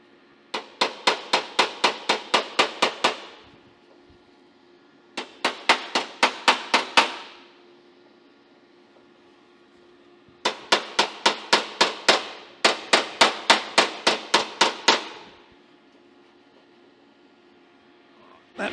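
Hammer blows on a rusty car door frame, four rapid runs of sharp metallic strikes with brief pauses between them, loud and close.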